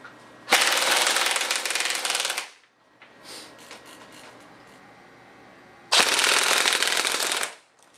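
Two long full-auto bursts from a GI G4A1 airsoft gun running on a 9.6 battery rattle loud and close, with a short pause of faint handling noise between them.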